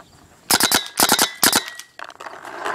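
GoG eXTCy paintball marker firing in triple-shot mode: three quick bursts of three sharp pops each, close and loud, with the mechanism's clicks and a faint hiss between bursts.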